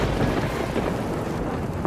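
Torrential rain pours down over farm fields, a dense, loud, unbroken roar with deep rumbling underneath and no pauses.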